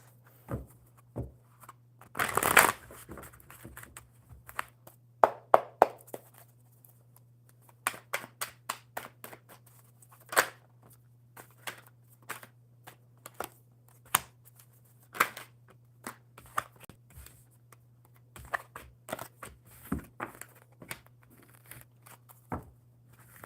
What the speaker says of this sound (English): I totally forgot how to shuffle.